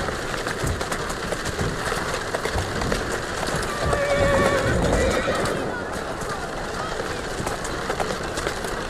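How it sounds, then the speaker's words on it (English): Horse hooves clip-clop steadily with a clear neigh in the Assassin's Creed Syndicate video game, its hoofbeats running under a voice talking throughout. "Who's a good horse? You are."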